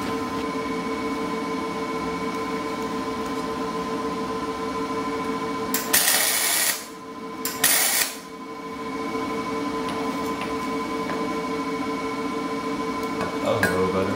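Two short, bright crackling bursts of tack welding on turbo parts for a twin-turbo Chevrolet Silverado build, close by over a steady shop hum.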